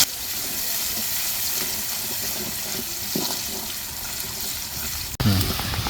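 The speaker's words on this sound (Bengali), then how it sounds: "খুব সুন্দর করে পেঁয়াজটা আমরা ভেজে নেব।" Chopped onions sizzle in a pan for a prawn and bottle-gourd dish, a steady, close, hissing fry that runs evenly, then a sharp clatter near the end.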